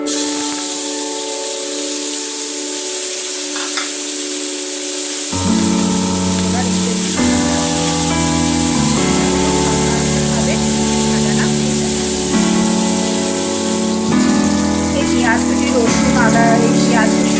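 Chopped onion, tomato, green chilli and garlic sizzle in hot mustard oil, a steady broad frying hiss throughout, with a musical background track playing underneath.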